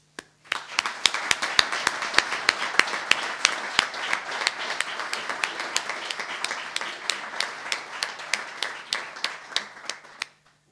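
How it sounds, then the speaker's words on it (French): An audience at the constituent assembly of the Neuchâtel Green Liberal party applauds for about ten seconds, a dense, even patter of many hands with sharp individual claps standing out, then stops abruptly. "Merci de les applaudir."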